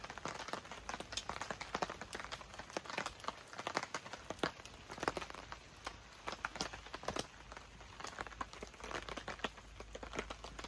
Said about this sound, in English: It's just started raining a little bit.